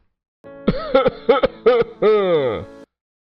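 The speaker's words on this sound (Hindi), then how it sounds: "अरे दादा, ससुर जी को खांसी आ रही है" An elderly man coughs in a few short bursts followed by a longer rasping throat-clearing, close and fairly loud, with no other voices.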